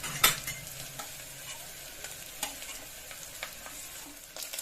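Curry leaves, green chilies and ginger garlic paste fry in a pan, a soft steady sizzle with a few light stirring scrapes and clicks, close and quiet, with no voice.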